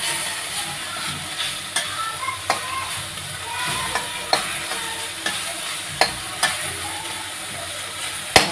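Drumstick leaf greens frying in a pan over a gas stove give a steady broadband sizzle, with sharp stirring clicks and scrapes of the utensil against the pan recurring every second or so. Nobody speaks.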